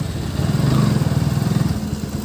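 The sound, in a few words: motorcycles idling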